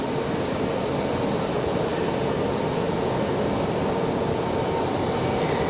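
A Frontier Airlines jet in Florida Panther livery arrives at Raleigh-Durham airport from Orlando, giving off a steady, unbroken jet roar at moderate distance.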